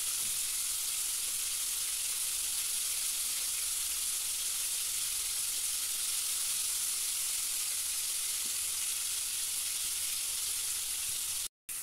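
Chicken fillet fries in a pan with a bright, even, dense sizzle that holds steady and close for the whole stretch, with no talk, before it cuts off abruptly at the end.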